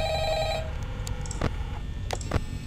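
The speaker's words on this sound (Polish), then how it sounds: "No, odbierz ten telefon." Telephone ringing in the horror video game Five Nights at Freddy's, with a steady tonal ring over the first half second, then fading into a low rumbling ambience broken by a few brief clicks.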